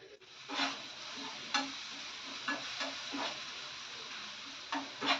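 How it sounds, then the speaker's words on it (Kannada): An eggplant omelette mixture spiced with garam masala is stirred and fried in a pan, with a soft sizzle under repeated scraping strokes of the spatula at an uneven rhythm. "ಈಗ ಒಂದು ಸರ್ತಿ ಚೆಂದ ಮಿಕ್ಸ್ ಮಾಡ್ಲತ್ತಿದೆ ರೀ."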